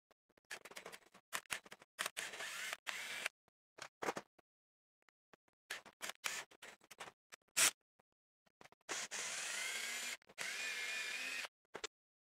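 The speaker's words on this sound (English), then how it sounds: "using the drill just to run that threaded rod in" A power drill runs in short, stop-start bursts up close, driving a threaded rod in, then settles into a longer steady whirring run before cutting out.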